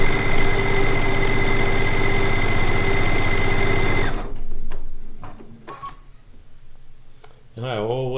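Sewing machine stitching quilt blocks for a log cabin quilt top, a loud steady whirring run for about four seconds that stops abruptly, followed by quiet handling clicks and a brief voice at the end.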